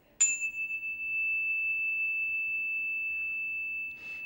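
A single clear tone in the key of G is struck and rings on as a steady, pure sustained note, alone in quiet surroundings.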